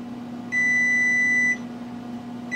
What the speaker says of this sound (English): I'm going to go ahead and set my timer for 50 minutes